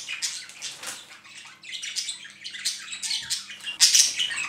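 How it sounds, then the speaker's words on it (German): Pet birds kept near a balcony garden squawk and chirp loudly and without a break, with harsh bursts and sharper peaks toward the end, no voices present. "meine Vögel sind in den nächsten paar Minuten sehr laut"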